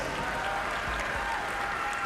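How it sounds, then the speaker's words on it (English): An audience at a curling final in the 2011 Canadian Open Championship gives a round of applause for curler Heather Ellis, a steady, moderately distant patter of clapping with a faint crowd murmur underneath. "A big hand for Heather Ellis."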